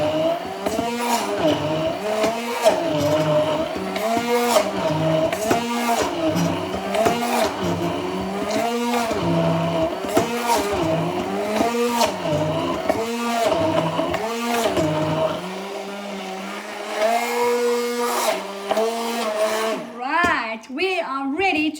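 A motorized stick blender whirs loudly, its pitch rising and falling in repeated surges as it churns thick dates and peanut butter, ending with a few short bursts.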